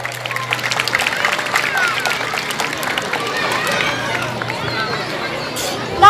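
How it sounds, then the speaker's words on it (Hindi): At a school annual function, an audience applauds to welcome a guest, a broad wash of clapping mixed with crowd chatter and babble, fairly loud throughout, with a sharper burst at the very end. "उनके लिए तालियों से स्वागत कीजिए"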